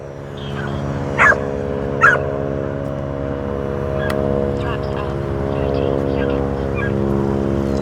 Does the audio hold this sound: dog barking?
yes